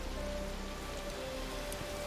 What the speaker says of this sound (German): Gerade wenn es regnet.